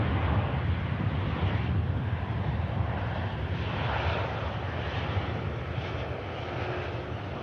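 A Boeing 737 rolls out on the runway after touchdown at Manchester Airport, its engines giving a steady, loud broadband roar that holds evenly throughout with no voices.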